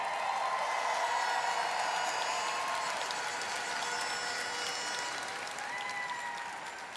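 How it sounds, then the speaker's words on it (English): A large audience at the Miss Universe 2023 preliminary competition in El Salvador applauds steadily, a dense sustained roar of clapping with some cheering that slowly tapers off toward the end. "Please give a round of applause for Paula Sugar."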